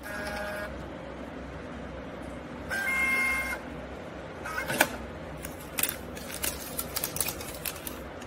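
Mechanical whirring and clicking of a printer feeding and printing, with brief louder bursts and sharp clacks toward the end; no talking.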